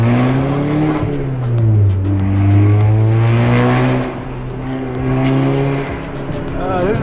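Engine of an AWD hot hatch, a Ford Focus RS or VW Golf R, droning loud and close while driving, its pitch rising and falling through gear changes, with a raspy race-car edge and no talk over it.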